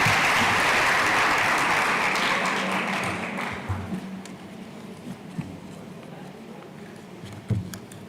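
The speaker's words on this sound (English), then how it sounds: "Round of applause for Dr." Audience applause at a national science and technology exhibition award ceremony, loud and sustained clapping from a crowd that fades after about three seconds into scattered claps and light murmuring.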